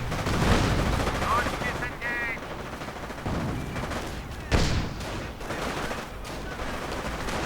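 Gunfire rakes engineer troops during a battle in a World War II strategy game, with dense bursts of rifle and machine-gun fire and occasional heavier impacts, continuous and loud, while a commentator talks over the action.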